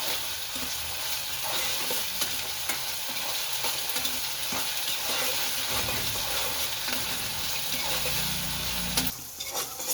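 Masala for egg curry frying in a pan, a dense continuous sizzle with a spoon stirring and scraping through it, fairly quiet and steady with no talking.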